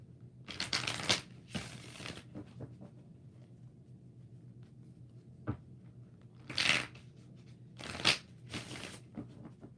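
Tarot cards being shuffled in several bursts of crisp riffling and flicking, separated by quieter gaps with small taps, close and fairly soft.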